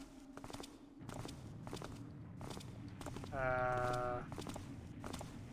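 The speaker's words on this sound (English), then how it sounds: "Sounds like a lot of footsteps." Footsteps in the stealth game Thief 2, a steady run of regular thuds with a brief harmonic tone partway through and a voice speaking briefly.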